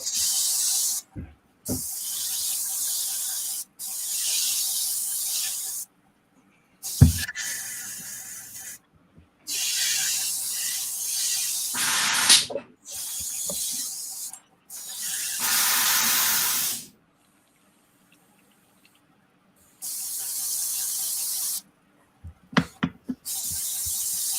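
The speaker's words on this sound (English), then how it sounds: "let me clean my airbrush out." An airbrush being cleaned out gives repeated bursts of loud, close spraying hiss, each lasting a second or a few seconds, separated by short silences and an occasional faint knock.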